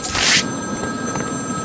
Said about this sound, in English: Find my phone now, Batman